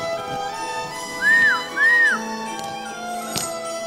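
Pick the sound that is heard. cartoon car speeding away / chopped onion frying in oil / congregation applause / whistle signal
whistle signal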